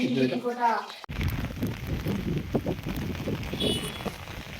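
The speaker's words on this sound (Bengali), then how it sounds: "বৃষ্টি পড়ছে বিশাল বৃষ্টিতে ভিজে ভিজেই যাচ্ছি" Heavy rain patters steadily on a surface close by, a dense rushing noise, after a voice speaks briefly at the start.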